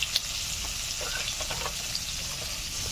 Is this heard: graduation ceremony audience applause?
no